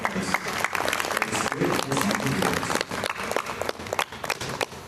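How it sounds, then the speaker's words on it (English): An audience applauds a presenter after a demonstration, giving a loud, dense patter of clapping that fades slightly near the end, with some voices mixed in. "Let's give her a big round of applause for that."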